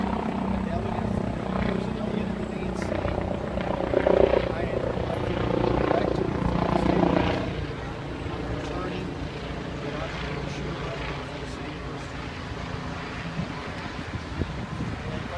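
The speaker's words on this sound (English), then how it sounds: "There was a plane right overhead." Steady aircraft drone passes overhead, swelling around the middle and then easing off, with people talking over it at an outdoor press gathering.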